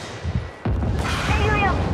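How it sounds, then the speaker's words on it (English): Explosion in the co-op shooter Helldivers: a sudden broadband boom hits about two-thirds of a second in and rolls on as a loud, sustained rumble to the end, with game effects layered over it. "Not cool if you don't look at the explosion."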